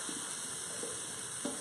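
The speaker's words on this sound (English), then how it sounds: "Stir that around a little bit." Fingerling potatoes sizzle steadily in a hot pan while being stirred, with three soft scraping pushes of the spoon breaking through the constant, even hiss.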